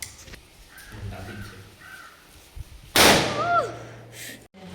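A single firecracker goes off nearby at an Eid celebration with one loud sharp burst, followed by a short fading rumble and crows cawing in the background, with voices and quieter activity before it.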